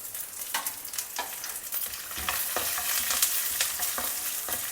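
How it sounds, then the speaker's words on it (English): Dry red chilli, green chilli, chana dal and peanuts roast in a pan with a steady soft sizzle and repeated scraping stir strokes, close and fairly quiet, no talking. "Roast all these spices well and the nuts also."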